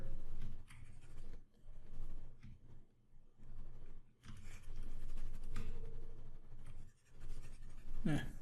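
A pen stylus drawing on a tablet makes faint, intermittent scratching and tapping strokes that come in short bursts with brief pauses, close and quiet throughout.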